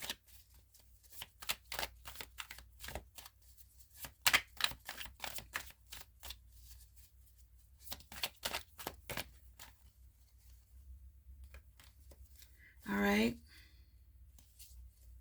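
A tarot deck being shuffled by hand, with rapid clusters of crisp card flicks and riffles in several bursts and pauses, close and fairly quiet, and a brief rising vocal sound near the end.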